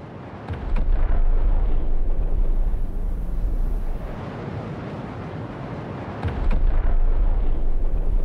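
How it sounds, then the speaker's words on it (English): A deep, rumbling explosion in Star Citizen booms from afar, swelling into a long low roar that fades and then surges again, with no voices present. "Now let's do the same thing, but observe the explosion from a distance."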